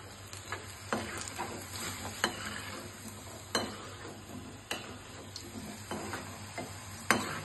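Potato pakodas made from half-boiled aloo fry in hot oil over a low flame, giving a steady soft sizzle broken by sharp clicks and taps at irregular intervals, close by with no voices.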